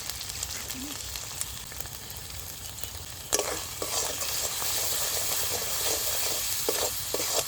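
Ground spices fry in a pan with salt and turmeric in a village kitchen, giving a continuous sizzle with scraping stirs that grow louder and more vigorous partway through.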